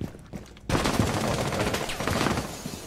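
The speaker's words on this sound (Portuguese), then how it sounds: "Levei tiro da Clara" Gunfire in the tactical shooter Rainbow Six Siege, a sudden burst of rapid shots erupting after a quieter moment and continuing as a dense, loud volley for the rest of the stretch.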